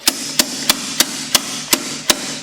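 Seven sharp metal hammer strikes on a Toyota intake manifold land at a steady, even rhythm, each a loud ringing clank followed by a brief pause.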